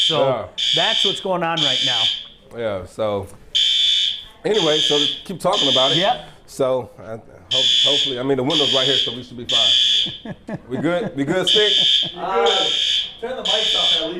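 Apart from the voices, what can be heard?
alarm going off in the studio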